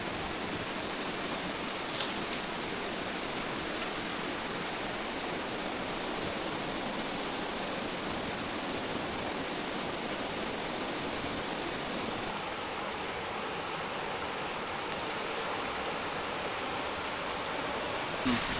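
Water rushes and burbles in a constant broad hiss, a shallow stream flowing steadily in Lan Sang National Park, Tak, Thailand, with nothing else standing out.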